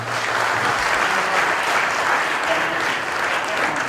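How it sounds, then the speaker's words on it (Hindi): Loud, sustained applause from devotees at a first death-anniversary ceremony and bhandara in Haridwar, continuous dense clapping throughout with faint crowd murmur and no distinct speech. "सभी भक्तों से प्रार्थना है कि इन सभी विभूतियों के लिए जोरदार तालियां।"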